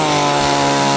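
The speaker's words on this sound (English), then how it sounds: "this is a chainsaw message for Neo Digital" A chainsaw engine runs steadily, a loud, close buzzing drone that holds for about a second without talk.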